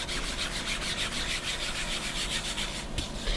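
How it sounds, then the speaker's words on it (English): Steady rubbing of a cloth or pad over a wooden model ship deck, working in a shellac mixture, heard as continuous close scratchy friction with faint rhythmic strokes and no talk. "And he's rubbing the deck with that"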